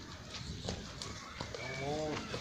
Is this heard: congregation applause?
no